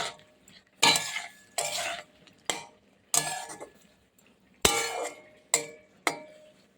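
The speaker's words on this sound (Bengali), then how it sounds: "এবার এতে আমি দিয়েছি লঙ্কা গুঁড়ো নুন আর হলুদ গুঁড়ো এবার একটুখানি নেড়ে নেবো" Bitter gourd being stirred with chilli powder, salt and turmeric in a pan, a spoon scraping and clinking against the metal in about eight separate bursts with short pauses between.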